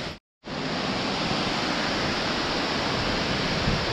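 Tirathgarh waterfall in Chhattisgarh roars as a dense, steady rush of falling water, loud and continuous after a brief moment of silence at the start, with no voices.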